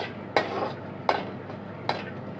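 Garlic is stirred in a clay pot for chicken curry, with three distinct scraping clinks of a utensil against the pot over a soft background hiss.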